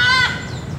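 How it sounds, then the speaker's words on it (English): A loud, harsh parrot call in Colombia with a bright harmonic squawk in the first quarter second, followed by a fainter tail and low background rumble. "First parrot I've ever seen in my entire life. Loud and beautiful, as they should be."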